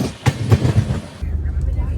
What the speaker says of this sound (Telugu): sound ఎత్తారా diesel లోకోమోటివ్ది